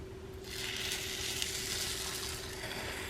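Eggnog French toast sizzles on a Dash Mini Griddle in a close, steady, even frying hiss that holds without a break and has no talk over it.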